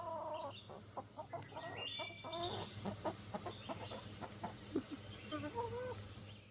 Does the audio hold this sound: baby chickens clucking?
yes